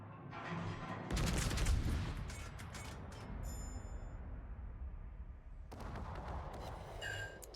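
Secondary guns on a warship fire in the World of Warships game, a dense run of overlapping booms and crackling blasts with a heavy burst near the start and a renewed flurry toward the end, alone without talk.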